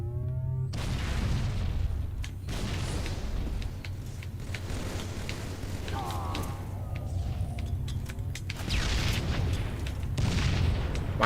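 Grenade explosions in the Halo video game: several heavy booms, the loudest near the start and again toward the end, rising over constant game noise while voices talk throughout.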